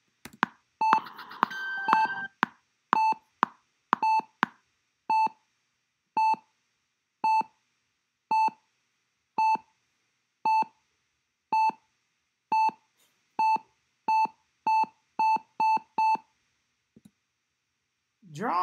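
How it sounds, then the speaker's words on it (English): Synth beeps for a horror soundtrack track, a long series of short, clean tonal pips repeating at a steady, slightly quickening pulse, heard alone and clear after an initial burst of clicks. "I think the beep's a bit dramatic."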